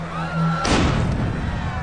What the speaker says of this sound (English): The second explosion.